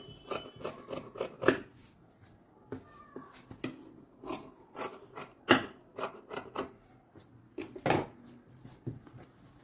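Scissors cut off a fabric tip on a peacock quilt, giving rapid, close, clicking snips in quick clusters throughout, with no speech.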